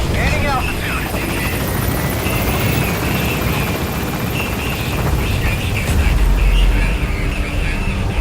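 Pequod support helicopter in Metal Gear Solid V gaining altitude at a landing zone, a steady loud rotor drone filling the whole stretch with a low rumble swelling near the end, voices faintly present beneath it.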